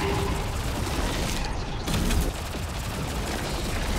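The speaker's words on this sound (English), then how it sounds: "okay, let's shoot this weapon" Weapon fire in the action game Kill Knight, dense and continuous mechanical clatter with rapid shots layered over a busy game soundscape, loud and steady throughout with a brief swell near the middle.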